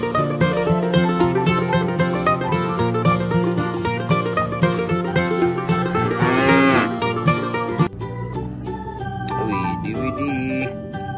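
A water buffalo gives a drawn-out moo that rises and falls, heard once over loud, steady background music.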